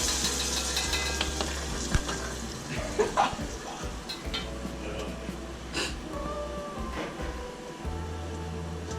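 Sauce poured over egg noodle chow mein in a hot pan gives a faint, ongoing sizzle and stirring clatter, with people talking nearby.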